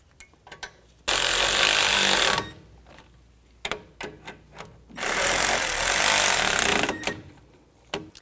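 Brake caliper bracket bolts being driven in on a 2011-15 Kia Sorento with an impact tool: two long, loud, steady bursts of rattling, buzzing machinery, separated by quieter clanks and knocks.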